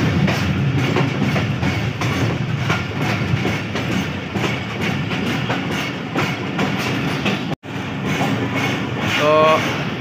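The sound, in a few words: passenger train arriving at Muzaffargarh station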